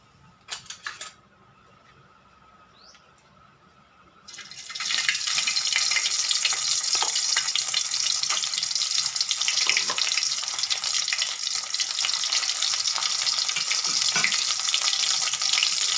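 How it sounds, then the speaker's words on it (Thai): Curry paste hits hot oil with a sudden loud burst of frying that settles into a dense, continuous sizzle, preceded by a few clinks and a quiet pause. "เราจะผัดพริกแกงให้หอมนะคะ ผัดไฟอ่อนนะ"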